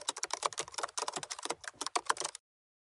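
Rapid typing on a computer keyboard, a dense run of close, crisp key clicks at an uneven rhythm that stops abruptly before the end.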